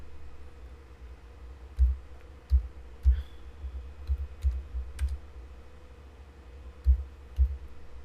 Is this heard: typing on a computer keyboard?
yes